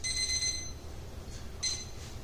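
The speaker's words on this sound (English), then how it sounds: "So I like to just start a timer." Kitchen timer being started while preparing a French fish stew of mussels, cod, salmon and scallops: a few brief high beeps near the start, then another short beep burst, over a low background hum.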